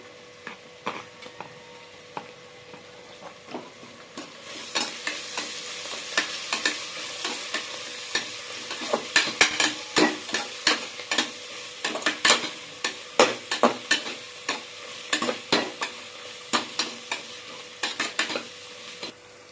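Onion, ginger, garlic and mint sauté in a pan for biryani, sizzling softly while a metal spoon scrapes and clinks against the pan in quick irregular strokes, close up and without talk.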